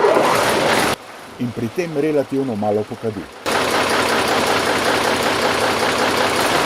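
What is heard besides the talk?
TAM 5500 fire truck engine starting and idling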